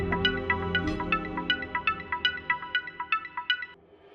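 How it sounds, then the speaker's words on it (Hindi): A mobile phone ringing indoors with a repeating, evenly spaced electronic ringtone melody, steady and clear, continuing for several seconds before cutting off, with no talking over it. "किसका फोन है?"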